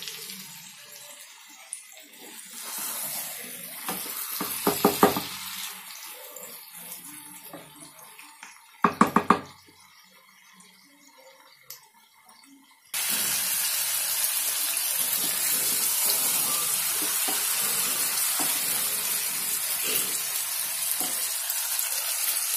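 Chicken frying dhaba style in a pan, a faint sizzle with a few sharp clatters of the utensils, then a louder, steady hiss of hot oil that carries on to the end.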